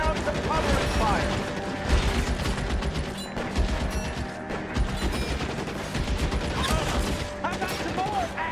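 A shootout in the video game L.A. Noire erupts with repeated gunshots and rapid bursts of fire over mechanical clatter, loud and dense throughout, with voices talking amid the firing.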